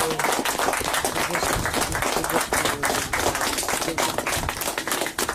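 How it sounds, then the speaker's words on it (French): A crowd at a small charity support walk applauds steadily, with many hands clapping close together in a continuous, lively patter. "vous pouvez tous vous applaudir"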